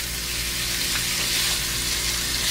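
Zucchini noodles with mushrooms and garlic fry in a pan, giving a loud, steady, close sizzle that holds without a break.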